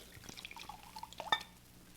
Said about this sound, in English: let me pour you both some wine